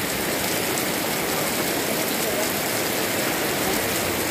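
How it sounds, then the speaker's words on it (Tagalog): Heavy rain pours down as a dense, continuous hiss that stays steady and loud throughout, with no breaks. "Grabe ang ulan, oh."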